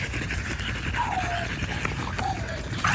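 American Bully puppies out in the snow give off soft whimpers and a few high yips over steady panting and background noise, close by, with no one talking.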